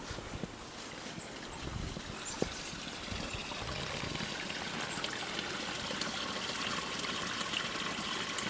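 Small waterfall at a goddess well pouring steadily, a continuous broadband rush and trickle of water held at an even level throughout, with no voices.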